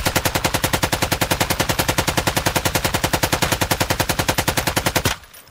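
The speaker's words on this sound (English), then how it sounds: "I emptied out an entire mag for you" Automatic gunfire from a video game emptying a full magazine: a fast, steady, loud burst of evenly spaced shots lasting about five seconds, then stopping abruptly.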